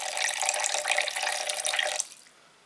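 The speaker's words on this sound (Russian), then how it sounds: "Только водички добавим." Water poured into a baking tray of Italian-style chicken cutlets gives a loud, steady splashing stream that lasts about two seconds and then cuts off. No one speaks.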